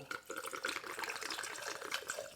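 Milagro Reposado tequila is poured heavily into a cocktail, giving a short, close run of liquid splashing and gurgling with a faint voice in the background.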